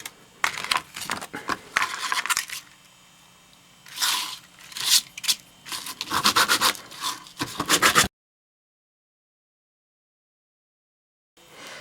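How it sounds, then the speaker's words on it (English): Quick rough scratching strokes of sanding on hard plastic pieces, coming in uneven bursts, then stopping abruptly into silence. "now for the sanding"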